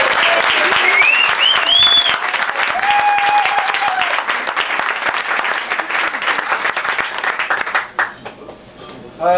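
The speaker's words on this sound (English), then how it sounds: "give her a big round of applause" A café audience applauds after a thank-you, with dense sustained clapping at close range, some whistles and a cheer rising above it, before the clapping thins and fades near the end.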